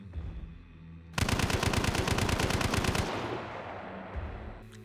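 Automatic fire from a Mosin rifle modded for full-auto in the game Hunt: Showdown: a loud, rapid string of shots lasting nearly two seconds, then a fading echo and quiet ambience.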